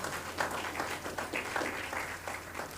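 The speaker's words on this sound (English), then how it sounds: "Let's give them a round of applause" An audience applauds schoolchildren after their musical performances at the launch of Productivity Awareness Week 2025: soft, fairly distant crowd clapping forming a continuous patter over a low steady hum, with no talk.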